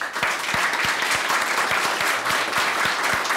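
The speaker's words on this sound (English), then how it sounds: "we should give an applause for Snake" Audience applause at an artist talk, a steady wash of many hands clapping close and loud, with a few sharp low thumps recurring through it and little speech.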